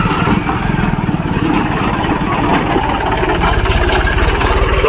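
A tractor engine idles loudly and steadily, its low chugging throb continuous throughout with no pauses.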